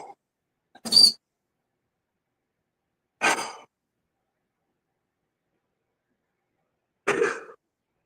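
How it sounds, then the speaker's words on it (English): Three separate dry coughs, spaced a couple of seconds apart, sound close to the microphone in an otherwise quiet room, with no talking in between. "I've been coughing a lot."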